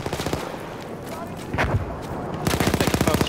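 Rapid bursts of machine gun fire in a Battlefield 1 match on the Sinai Desert map, a dense volley at the start and another sustained burst near the end, loud and close with gunfire in between.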